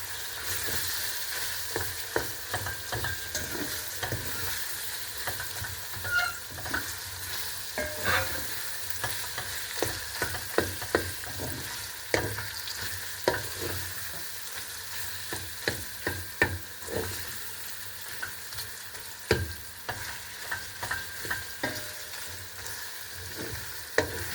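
Tomato paste stirred and fried in a pan, with a continuous soft sizzle broken by repeated scraping and clicking strokes of a utensil throughout, fairly quiet and close.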